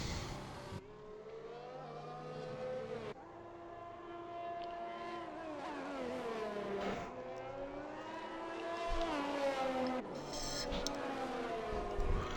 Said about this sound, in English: the safety car is finally moving.